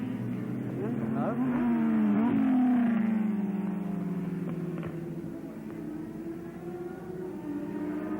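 Suzuki superbikes race on a track at a 1983 superbike heat, their engines rising and falling in a sustained roar as the machines pass, heard under a commentator's voice.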